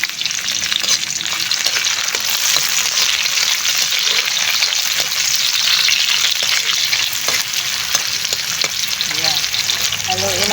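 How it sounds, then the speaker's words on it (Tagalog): Tomatoes frying with sardines in a pan, a loud, dense sizzle running throughout with scattered stirring clicks and scrapes close by; no one speaks. "Next, ilalagay ko yung kamatis."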